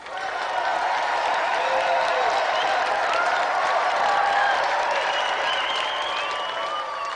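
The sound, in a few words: studio audience applause for Nintendo champion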